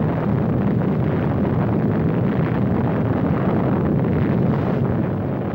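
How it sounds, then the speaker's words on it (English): An atom bomb blast from a 1951 film roars as a sustained, loud, dense rumble that holds steady throughout with no voice over it. "The blast of an atom bomb is its most important destructive agent."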